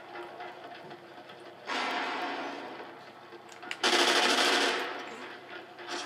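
Rapid automatic gunfire from Call of Duty Ghosts, an Xbox Live free-for-all match, sounds in two loud sustained bursts, separated by quieter background game noise. No voices are heard.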